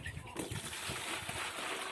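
Clean water poured into animals' drinking bowl, a steady splashing, sloshing pour that runs nearly continuously and close by after a brief quieter start.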